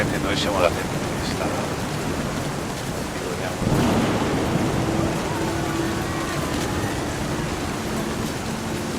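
A rainstorm with thunder in the video game What Remains of Edith Finch: steady rain and low rumbling fill the scene, with a heavier surge midway.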